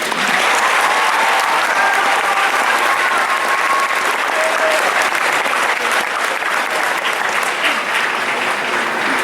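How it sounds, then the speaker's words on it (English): Graduation audience at a Union High School Class of 2019 ceremony applauding families and staff, a dense, steady roar of clapping hands that fills the whole stretch at high volume, with no voices standing out. "please join me in thanking our families and staff with a well-deserved round of applause"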